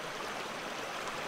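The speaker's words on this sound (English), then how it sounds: "The water converses with the stones, burbling and gushing, always flowing towards the ocean." Huatulco River water burbling and gushing over stones in a rocky riverbed, a steady close hiss of flowing water heard alone.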